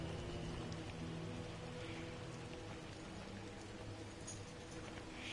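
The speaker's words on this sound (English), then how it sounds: "It's raining." Rain falling in a farming video game, a steady soft patter of drops with no talking, continuous and even throughout.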